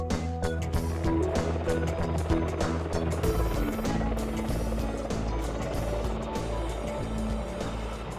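A Merlin helicopter flies past at a military air display, a loud continuous rotor and engine roar with low throbbing that holds steady across the whole stretch.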